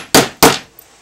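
A hammer strikes a cone-shaped setter seated in a metal eyelet twice, two sharp, loud, close metallic blows about a quarter second apart, each ringing briefly before fading.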